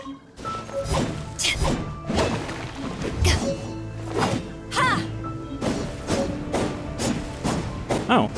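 A character in Genshin Impact performs a spinning heavy attack, a series of rhythmic whooshing swings and heavy thuds repeating about once a second against game music.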